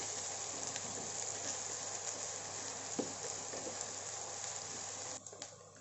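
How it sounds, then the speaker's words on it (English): Onions fry in a pan for paneer pulao, making a soft, steady, hissing sizzle with a few faint clinks near the end. "Fry the onions well until it turns like golden brown."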